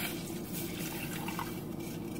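Milk pours steadily into an iron pot, a continuous close trickle and splash with no pauses and no voices.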